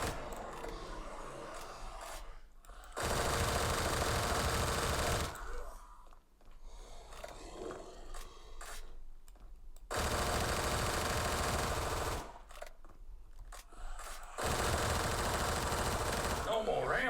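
Bursts of rapid automatic gunfire from a weapon in the Roblox video game, three sustained loud volleys separated by quieter gaps.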